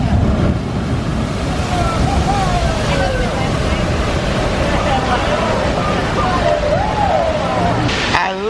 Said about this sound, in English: Here's the Jurassic River ride coming down that big drop one more time.